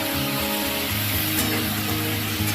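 Chicken fries in a pan with a dense, steady sizzle that stays loud and close the whole time, with a low hum beneath it.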